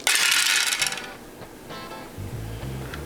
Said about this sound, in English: All right, to end the week, here's episode 5 dice roll.